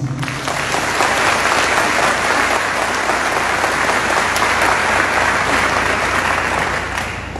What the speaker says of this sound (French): À vous, 1000 merci et 1000 salves d'applaudissements.